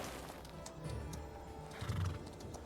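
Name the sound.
horse neighing in the video game Chrono Odyssey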